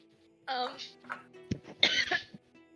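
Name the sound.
throat clearing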